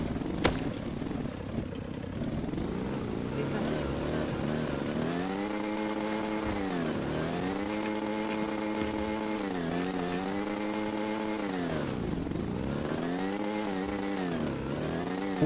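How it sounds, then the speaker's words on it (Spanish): A motorcycle engine in a video game drones close and steady, rising and falling in pitch through several revving swells. "Es un moto."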